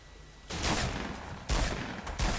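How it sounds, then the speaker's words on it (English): Two heavy explosive blasts from a grenade launcher in a video game firefight, each a loud sudden burst that rumbles and decays over about a second, followed by a third sharp hit near the end. "Oh, explosion!"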